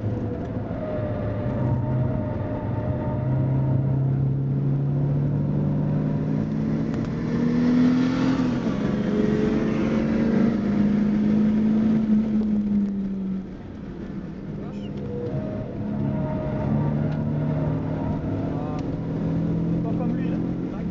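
Car engine revving and pulling through the gears during a driving lesson, a steady loud drone rising and falling in pitch over the whole stretch, with an instructor talking throughout.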